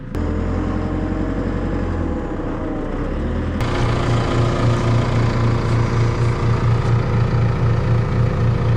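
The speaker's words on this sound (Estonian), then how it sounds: "Traktor tahab sealt sõita veel." Tractor engine idling on a farm during seeding in Australia, a steady low diesel rumble that shifts to a pulsing throb partway through, close and continuous.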